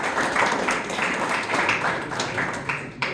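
An audience applauds steadily throughout at a professional boxing show in Tbilisi, Georgia, a dense, loud wash of clapping filling the hall.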